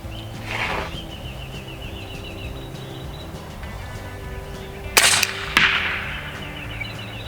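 Two sharp shots from an AEA SF Select Fire semi-auto PCP airgun in .30 caliber, fired at a 100-yard target outdoors: a crack around the middle followed by a second about half a second later, each ringing briefly over faint background ambience.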